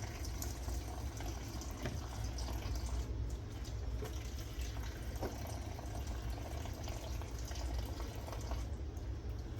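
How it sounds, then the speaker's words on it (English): Garlic cloves rinsed under a running kitchen tap, a steady continuous hiss and splash of flowing water throughout, close and fairly loud with no talking. "I'm just kind of running them under water to make sure all that is off of them."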